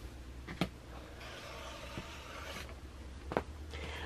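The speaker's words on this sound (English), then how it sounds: "I'm just going to cut off this large selvage edge off of this fabric" A large selvage edge being trimmed off quilting fabric, heard as a few faint crisp slices and soft scraping rasps of a blade through cloth, close and quiet with no talk.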